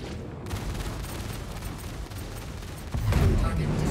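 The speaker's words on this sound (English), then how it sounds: "Oh, those cannons just feel so powerful." Heavy spaceship cannons firing in the space combat game Star Citizen, mounted on an Anvil F7C Hornet Wildfire fighter, a dense continuous barrage of booming shots that swells louder near the end.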